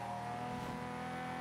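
A McLaren P1 supercar in the Forza Motorsport 5 racing game holds a steady, loud engine drone under acceleration, with a sustained harmonic whine that stays even throughout, no talk over it.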